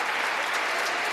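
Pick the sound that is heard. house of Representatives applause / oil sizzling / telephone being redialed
house of Representatives applause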